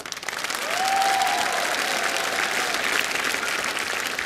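Steady, dense applause from a comedy show audience fills the room at an even level throughout, with a faint tone held briefly near the start.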